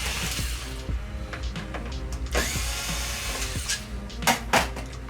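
Screws come out of the stand of an LG 42LE5400 LED TV under a power driver, with short whirring bursts, clicks and scraping handling noises close by, unevenly spaced.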